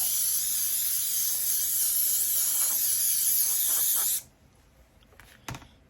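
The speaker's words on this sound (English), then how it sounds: "I take the airbrush and I blow off the dust" An airbrush blows a steady, close, loud hiss of air across a surface to clear dust for about four seconds, then cuts off abruptly, leaving near silence with a couple of faint clicks.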